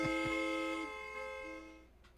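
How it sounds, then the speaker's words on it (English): Car horn sound effect, a sustained nasal honk that holds steady and then fades slightly, close and loud, followed by a brief softer blip with no talking. "We'll just add more horns."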